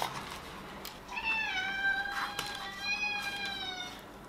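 A cat meows in a drawn-out, wavering call, then gives a second shorter meow, close and clear in a quiet room while someone works on assembling a Kyosho Optima radio-controlled car.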